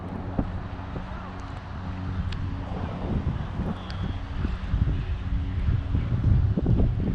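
Wind blows outdoors at a lake, a steady low rumble and buffeting against the microphone that builds slightly toward the end, with faint rustling over it.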